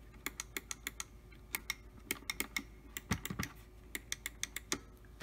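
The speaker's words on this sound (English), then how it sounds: "Let me turn the volume down so you can hear the clicking sound" Quiet, rapid clicks from a microswitch arcade joystick, a cheap replacement unit, ticking in irregular bursts of sharp taps at low volume with no talking.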